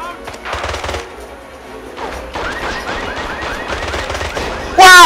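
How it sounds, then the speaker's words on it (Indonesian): A car blows up in the video game James Bond 007: Blood Stone, with rapid gunfire-like crackling bursts followed by a sudden loud, sharp blast at the very end. "mobilnya meledak"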